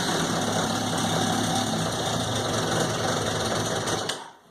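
A 2001 Suzuki Katana 600cc motorcycle engine runs at a steady, buzzy idle, loud and close, then cuts out abruptly near the end with the choke off.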